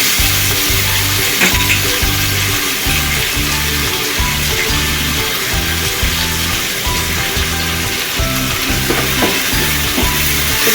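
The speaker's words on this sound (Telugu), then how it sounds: "ఇది టమాటాలను మంచిగా నూనెలో ఉడికించాలి." Tomatoes cooking in oil in a pan give a steady sizzle and bubbling, with a rhythmic low thumping pulse running under it, close and continuous.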